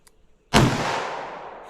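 A single sharp gunshot from a .38 Special snub-nosed revolver firing Liberty Civil Defense ammunition cracks after a near-silent moment, followed by a long decaying outdoor echo.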